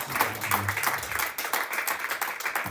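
A church congregation applauds in praise, a dense steady patter of clapping hands held at an even level for a few seconds, with a faint murmur of voices under it.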